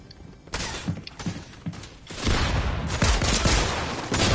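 Gunfire in the video game Fortnite, with bursts of shots, clanking and cracking impacts that build into a dense, loud barrage toward the end.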